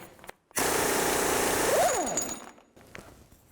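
Impact wrench with a 36mm socket spinning off the front axle nut of a 2000-06 GMC Yukon, a loud continuous rattling hammer lasting about two seconds before winding down, with brief quiet on either side.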